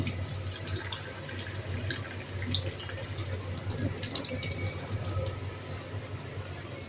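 Fresh water is poured out for birds at a flat, falling in a continuous close splash and trickle that runs steadily throughout, with faint background noise and no talk.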